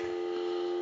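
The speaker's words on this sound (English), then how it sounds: "We'll give you some dial tone" A steady, continuous telephone dial tone from an Automatic Electric three-slot payphone hums without a break, clean and unchanging, with nothing else over it.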